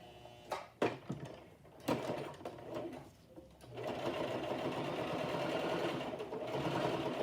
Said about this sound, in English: I'm going to do a closed stitch to the edge.